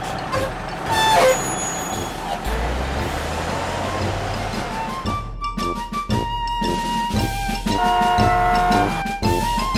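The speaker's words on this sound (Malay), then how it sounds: "Saya menunda kereta yang rosak." Cartoon tow truck hauling a broken-down car: a heavy truck engine rumbles steadily with an air-brake hiss and repeated reversing beeps, loud and close, with no talk.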